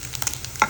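Prawns stirred in a pan of hot coconut oil for pickle, giving a brief, close scrape of the spoon over a soft sizzle.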